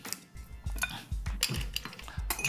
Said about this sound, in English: We're gonna add ice.